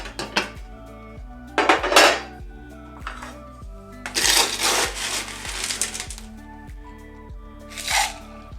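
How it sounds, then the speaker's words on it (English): Ice cubes clatter into a metal cocktail shaking tin for a Mai Tai in several loud, rattling bursts over steady background music. "we're gonna add ice to our shaking tin"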